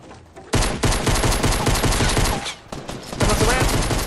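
Rapid, loud bursts of automatic gunfire in a video game shooter, shots hammering at a player-built structure in near-continuous volleys with brief gaps.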